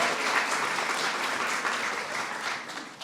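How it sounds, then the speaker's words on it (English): A crowd at an Eid al-Fitr reception claps in a full, steady round of applause, close and fairly loud, with no letup across the short stretch. "So please give them a big round of applause."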